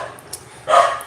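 A dog barks once in a single loud burst partway through, set against faint background noise during a livestream in the Philippines.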